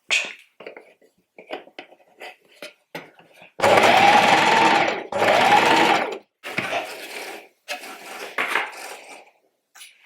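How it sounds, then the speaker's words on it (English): A sewing machine runs close by, stitching a jumpsuit seam in two loud whirring bursts of about a second each. Softer bursts of speech are scattered between them. "rather than reversing at the end, I'm just going to sew straight off"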